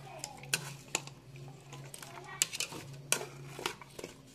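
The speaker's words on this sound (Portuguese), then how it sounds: "Mexidinha, que é pra pegar os temperos." Fish seasoned with salt and spices being stirred in a cooking pot, with close, intermittent metallic clinks and scrapes of a utensil against the pot over a low background hum.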